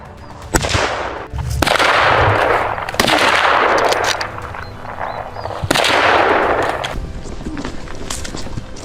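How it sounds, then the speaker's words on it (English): Rifle shots fired at a wild boar during a hunt ring out as loud, sharp blasts, each followed by a long, noisy rumbling tail, close and dominating the scene. "Without hesitation, I pull the trigger, 2 decisive shots."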